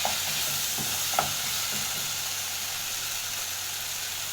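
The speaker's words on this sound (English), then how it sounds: "add in your beef masala. There we go, beef masala, and stir that all in like that" Beef stew with beef masala stirred in, frying with a continuous close sizzle and a few spoon knocks against the pot early on, then steady hiss.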